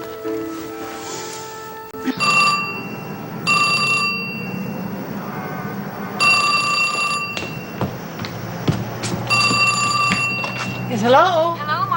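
A telephone rings in repeated bursts during a long-distance call, a bright warbling ring sounding several times at moderate loudness with talk and room sound underneath.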